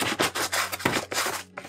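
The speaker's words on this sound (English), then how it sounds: "Scoop some sand, put it into there." Scoops of desert sand substrate poured and scraped into a tarantula enclosure, giving several close, gritty rasping bursts in quick succession.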